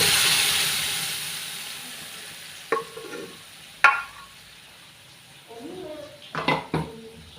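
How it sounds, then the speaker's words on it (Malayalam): Grated coconut roasting in a pan while a pumpkin curry is prepared, giving a soft steady sizzle with a few sharp clinks and scrapes of a spoon stirring against the pan, close by. "തേങ്ങയൊക്കെ മൂത്ത് വന്നു."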